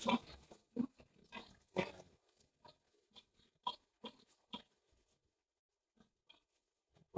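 Native pigs on a small farm on a rainy day grunt and snort close by in a cluster of short, rough calls, thinning to a few faint sounds before trailing off.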